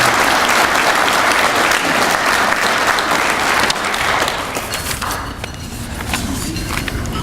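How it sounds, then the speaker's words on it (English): At an OSCIA annual general meeting, a large audience gives loud, dense applause for a lifetime achievement award recipient. The clapping fills the room, then softens into scattered claps and faint footsteps, with no talking. "Let's recognize Jim with a big round of applause."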